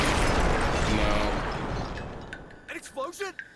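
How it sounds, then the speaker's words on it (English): A rumbling explosion in the Metal Gear Solid: Peace Walker video game, loud and broad at first and then decaying over a couple of seconds, followed by game voice chatter. "An explosion?"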